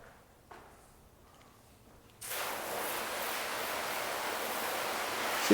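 After a quiet start with faint clicks, a steady loud hiss of water spraying onto coated car paint begins abruptly and continues without pause, nearby.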